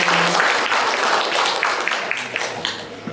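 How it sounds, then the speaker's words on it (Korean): An audience at a Tuberculosis Prevention Day ceremony applauds three speakers, a dense, loud burst of many hands clapping together that tapers off slightly toward the end. "다시 한번 세 분께 박수 부탁드리겠습니다"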